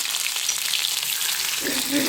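Green chili and garlic sizzle in hot oil for a tempering, a short burst of dense close crackling with a brief louder spit near the end.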